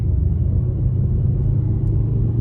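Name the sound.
Ford Super Duty 7.3 Godzilla truck accelerating in first gear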